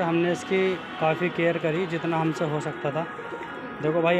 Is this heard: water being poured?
no